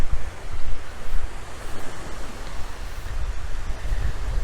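Surf washes steadily onto the shore of Plattsburgh Bay at a beach near downtown Plattsburgh, New York, with wind rumbling across the microphone in a continuous, fairly loud wash and no talk.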